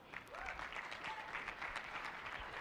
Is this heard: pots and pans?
no